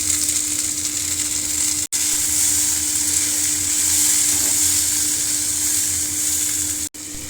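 Okra pieces fry in hot oil in a pan for bhindi masala, a loud, close, continuous sizzle that holds steady throughout, broken only by two very short gaps, with no voices.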